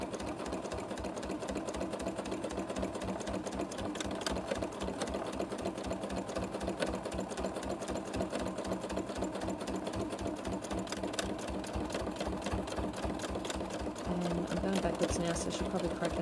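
A sewing machine runs continuously while free-motion stitching a collage with brown thread, a fast even needle chatter that stays steady and close with faint talk over it.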